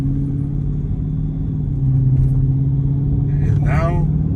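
Dodge Scat Pack widebody car cruising normally, a steady low engine hum and road rumble from inside the cabin, with a person talking briefly near the end.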